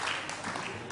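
Studio audience applause on a Turkish television talk show, a dense wash of clapping that stays steady for about a second.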